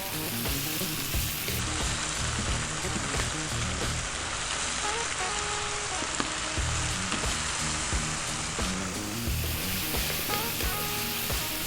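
Vegetables for Indian veggie fried rice sizzle and fry hard in a pan over high heat, a dense, steady crackling hiss close up that runs throughout, with faint scrapes of stirring.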